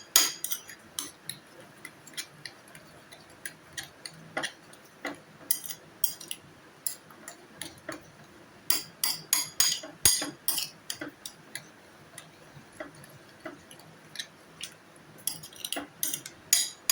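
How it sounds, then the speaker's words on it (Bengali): A metal spoon clinking against a bowl while mixing beaten eggs with other ingredients, irregular bright taps and scrapes in quick clusters with pauses, close and clear. "চামচ দিয়ে ভালো করে মাখিয়ে নেব"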